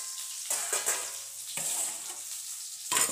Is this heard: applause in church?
no